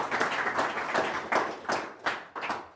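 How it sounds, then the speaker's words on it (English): An audience claps at an indoor Mac admins meetup, a thin, scattered round of hand claps with a few distinct louder claps near the end, heard without talk. "So a round of applause for Karthik."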